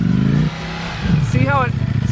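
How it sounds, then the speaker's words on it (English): A 2018 Ducati Panigale V4S motorcycle engine burbles at low revs with a loping, twin-like pulse, close and loud, while a person talks over it. "When you give it low revs, give it some low revs. Sounds like a twin, right?"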